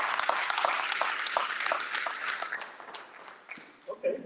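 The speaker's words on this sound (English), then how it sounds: "Another round of applause" Applause from the audience at a county meet-the-candidates forum, dense at first and gradually thinning into scattered individual claps, with a voice starting to speak near the end.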